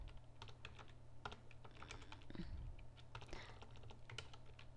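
Soft, irregular keystrokes tap on a computer keyboard as a menu item is entered, faint and steady with a low background hum.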